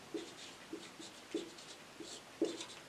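A pen writes on paper during a Class 10 science lesson, making faint, rhythmic scratchy strokes in short bursts about every half second, close and quiet.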